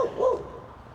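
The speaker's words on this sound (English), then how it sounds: "barking at somebody across the street" A dog barks at someone across the street outdoors, giving a short yip-like bark that rises and fades within a second, heard fairly close with no talk over it.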